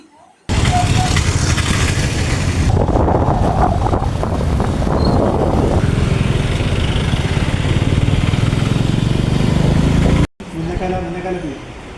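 A motorcycle ride on Kerala roads brings a steady engine drone mixed with heavy wind buffeting on the microphone, continuous for about ten seconds before a brief cutoff and a quieter resumption.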